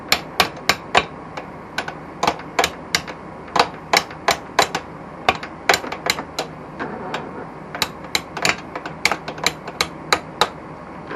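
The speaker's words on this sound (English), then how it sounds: "Notice how I'm using the backward stroke wrench tap." A hammer repeatedly taps a wrench while a DT250 engine is being installed, producing sharp metallic strikes in quick irregular bursts and clusters, close and fairly loud, with no voices.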